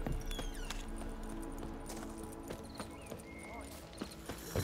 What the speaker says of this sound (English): This is their horses and stuff.